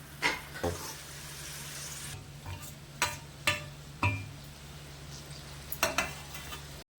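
Masala sizzling in three to four ladles of oil for a quick veg pulao, with a steady low fry and several sharp spoon scrapes and clinks against the pan at irregular intervals.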